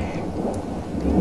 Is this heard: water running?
no